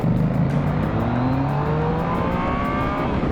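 A Yamaha XSR 700 or MT-09 motorcycle accelerates hard on a demo ride, its engine note climbing steadily in pitch through a strong, close, continuous rev with wind rush around it.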